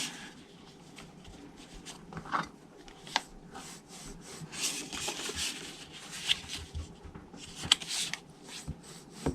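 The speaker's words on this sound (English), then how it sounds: "make sure these are straight and burnish them" Paper being burnished along folded score lines for a Halloween slider box, a soft, steady rubbing and scraping close by with occasional sharper strokes, no talking.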